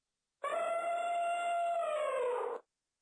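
An elephant trumpets in one sustained, brassy, harmonic call lasting about two seconds, loud and close, with silence before and after.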